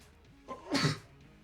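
A single sharp sneeze from a gamer at a microphone, a short in-breath followed by a brief burst, close and fairly quiet, then quiet again.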